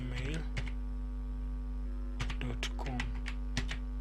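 Keys tapped on a computer keyboard in short irregular bursts while an email address is entered, with a steady mains hum underneath and faint voice sounds between the clusters of keystrokes.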